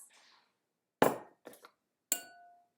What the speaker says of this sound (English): The second piece of my drum kit today that I found was a glass.